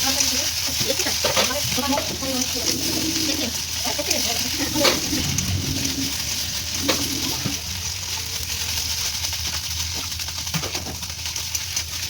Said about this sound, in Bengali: এভাবে এটাকে আমি অনেকবার ঢেকে ঢেকে ভেজে নিতে হবে।